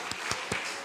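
A church congregation gives a few short claps during a Sunday worship service, three soft distinct claps spaced evenly over under a second, faint and sparse.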